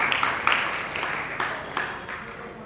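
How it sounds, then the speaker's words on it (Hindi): Audience clapping at a talk about Shaheed Udham Singh, a scattered, moderately faint patter of hands in uneven bursts that gradually fades out. "जरा ताली बजा दो"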